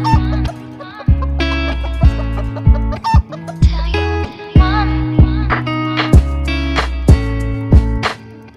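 A chicken clucks in repeated short squawks over a steady, loud rhythmic music bed with regular thumping beats throughout.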